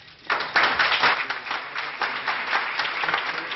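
Steady applause from a conference room full of people as a minister leaves, dense clapping that starts abruptly and holds at an even level without voices on top.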